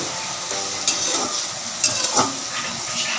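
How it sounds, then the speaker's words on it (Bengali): Steady frying sizzle with scraping stirs as chicken is turned with spices in a hot pan, a few louder utensil scrapes over continuous hiss, close and without talk. "মশলার সাথে চিকেনটা মিশিয়ে নিচ্ছি ভালো করে"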